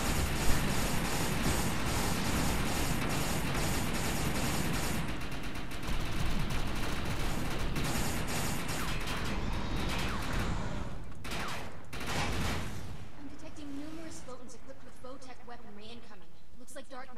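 Gunfire in the video game Defiance, a co-op fight against robots, rattles as dense, continuous automatic fire and blasts, with voices talking under and over the shooting.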